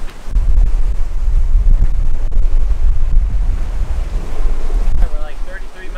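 Strong wind buffets the microphone over the rush of open-sea swells aboard a Corsair 880 trimaran sailing offshore, a constant loud roar with a faint whistling tone near the end.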